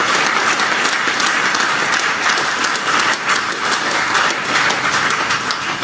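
An audience in a large hall in Lucknow applauds, dense continuous clapping that fills the whole stretch at a steady, loud level.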